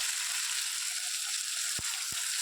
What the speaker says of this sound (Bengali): আগে ভালো করে মশলাটা কষিয়ে নিই